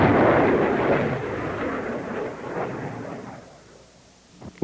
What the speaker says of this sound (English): Each launcher fires from an individual site. They may be fired singly, by troops, or by batteries, depending on the weight of fire required.